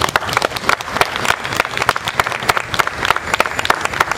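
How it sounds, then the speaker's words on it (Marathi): A crowd at a village gram sabha gathering gives loud, dense applause for the women present, with sharp overlapping claps going on steadily throughout. "जोरात टाळ्या वाजवा महिलांसाठी."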